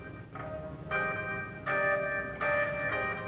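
Music plays through an audio amplifier being tested on a workbench, a series of clear, bell-like tones sounding in slow repeated phrases at moderate volume, with no talking over them.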